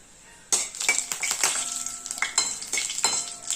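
Whole spices crackling in a spoonful of hot oil for a no-onion, no-garlic gravy, a sudden loud burst of sizzle with sharp pops and spitting, plus metallic clinks of a spoon against the pan.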